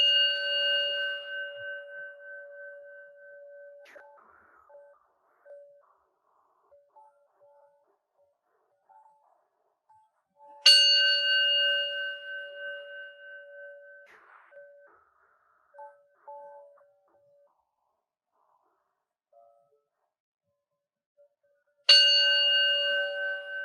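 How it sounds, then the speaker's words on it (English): A meditation bell is struck three times at even, widely spaced intervals, each strike ringing clear and bright before a long, slowly fading tone in a quiet room. "just listen to the first sound and the last sound of the bell."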